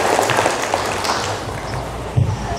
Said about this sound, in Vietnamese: Chúng ta hãy dành một tràng pháo tay để mừng cho điều đó